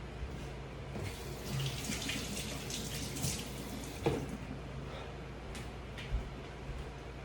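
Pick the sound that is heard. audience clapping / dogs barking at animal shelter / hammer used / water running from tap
water running from tap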